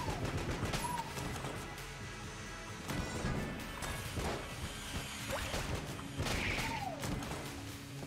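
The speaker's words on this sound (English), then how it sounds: "whenever you start hearing the do-do-do-do-do-do of too many explosions and Enter the Gungeon" Video game Enter the Gungeon: a dense, continuous barrage of explosions and gunfire, with repeated crashes and bursts layered over one another at steady loudness, plus occasional chirping game effects.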